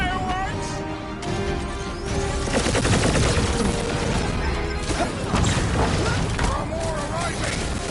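Rapid bursts of gunfire and crashing explosions from a battle in the video game Guardians of the Galaxy, loud and dense throughout, with clattering impacts and overlapping game voices speaking.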